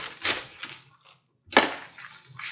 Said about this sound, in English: the first thing I do is I cut off the stems